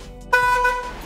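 A golf cart horn gives one short, steady electric beep that cuts in abruptly and holds for most of a second, loud and close.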